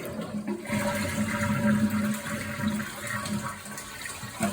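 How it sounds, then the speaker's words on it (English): A toilet flushes to empty its tank after the water supply valve is shut off and the tank lid removed, during a flapper replacement. A steady, close rushing and gurgling of draining water runs throughout, with no talking. "Flush the toilet to drain most of the water from the tank."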